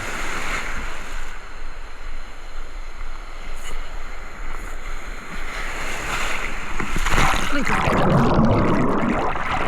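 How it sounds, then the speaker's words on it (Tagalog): Ocean waves at sea during ultralight fishing off Palawan, a continuous wash of surf and wind noise that grows louder and rougher toward the end, with a voice speaking over it. "Yung alon."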